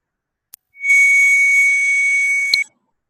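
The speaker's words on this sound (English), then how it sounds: "this is a sound at a frequency that's very high" A very high-pitched test tone from a computer rings steady and loud for nearly two seconds, framed by brief clicks before and at its end, in an otherwise silent room.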